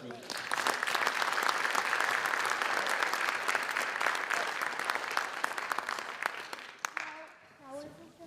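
A school board meeting audience applauds a middle school Student of the Month, with dense, steady clapping that fades near the end before a voice begins speaking.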